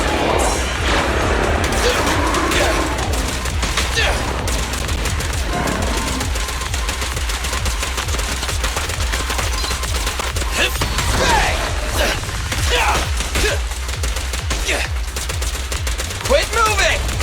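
Rapid gunfire from the video game Zenless Zone Zero, dense bursts of shots over a constant low game hum, with scattered impacts and effects throughout and a brief spoken line mixed in.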